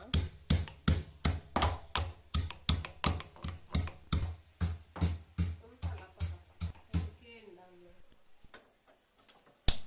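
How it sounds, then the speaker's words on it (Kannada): Garlic and ginger are pounded in a mortar for soya chunks kebab, a steady run of about eighteen sharp, close thuds over seven seconds, then quieter scraping and faint knocks. "ಇದೀಗ ಬೆಳ್ಳುಳ್ಳಿ ಮತ್ತು ಶುಂಠಿಯನ್ನು ಜಜ್ಜಿಡುವ."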